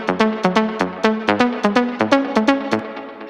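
A melodic house synth lead plays bright, plucky notes in a straight, evenly spaced rhythm with no swing, about a dozen short stabs that rise and fall in pitch, loud and alone with no voices.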